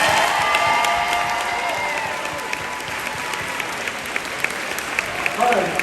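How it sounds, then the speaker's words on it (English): A school assembly audience applauds in a broad, steady wave of clapping with some cheering, holding for several seconds before tapering off as voices return. "let's give these two a round of applause"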